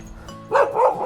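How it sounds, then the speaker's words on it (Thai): A dog gives a couple of quick close barks in a rural setting near a cave, the bark being brief and moderately loud over low background noise. "อย่าเห่าอย่าเห่าอย่าเห่าเสียงดังเสียงดัง"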